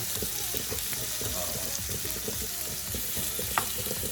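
Shrimp fry in a pan with onions and garlic, giving a steady, close crackling sizzle with stirring clatter throughout and one sharper tap near the end.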